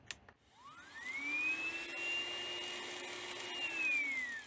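A faulty Hoover ONE PWR cordless vacuum cleaner powering on, its motor whining up in a rising pitch sweep to a steady high whirring tone, then dipping and rising again, fairly close and alone.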